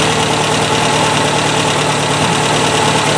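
A 1978 Toyota Corolla engine, newly fitted with electronic fuel injection, idles steadily and loudly up close with an even, slightly knocking mechanical rumble and no voices.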